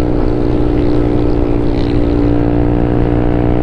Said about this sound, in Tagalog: Wow, grabe yung pipe kong ingay